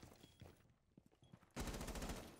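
Gunfire in Rainbow Six Siege, a shotgun blasting holes in a wall to open a line of sight, starting with a few scattered faint pops and then breaking into a loud, sustained burst of shots.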